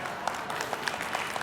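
Keynote audience at AWS re:Invent 2023 clapping, a dense, fairly quiet wash of many hands at a distance, steady throughout with no voices.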